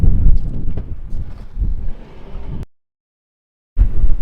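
Steady low roar of cold wind buffeting the microphone, loud and close, cutting out briefly before rushing back, outside a campervan in Iceland.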